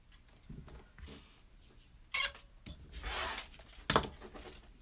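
A rotary cutter slices along the edge of fabric, giving a few short, close rasping and rubbing strokes with quiet handling noises between them.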